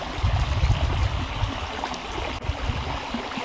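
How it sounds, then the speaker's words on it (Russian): Rainwater from the mountains after extreme downpours rushes down a road as a torrent, a steady, loud low rumble of churning water with no pauses. "Вот такая вода с гор идет. Вот это ливни экстремальные. Вот по дороге прям хлещет."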